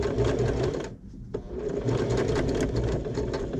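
A sewing machine stitches around the edge of a fabric bag, a steady close mechanical whir with one brief pause partway through and a faint voice underneath.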